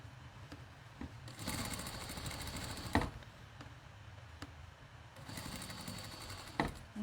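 A sewing machine runs two bursts of rapid stitching while sewing a crossbody bag, the steady mechanical whirr close and fairly quiet, with scattered clicks and taps between the runs.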